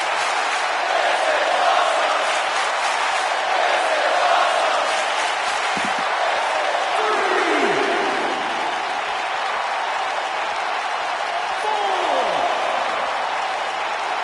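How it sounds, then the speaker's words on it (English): A wrestling arena crowd roars steadily, a dense wash of cheering and clapping that holds loud throughout, with a commentator talking over it. "by the sound of this crowd, I think they're getting what they wanted"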